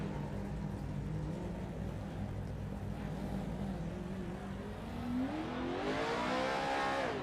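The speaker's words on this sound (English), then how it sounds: "Let's see what it's like to do a burnout in a Pro 4 truck." A Pro 4 off-road truck in the iRacing video game holds a steady engine drone, then revs rising in pitch toward the end as it does a burnout on asphalt, with no voices.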